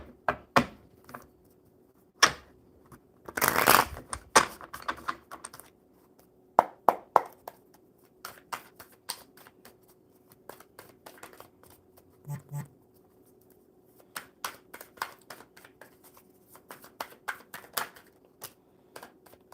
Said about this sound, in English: All right, Albert, one more good shuffle.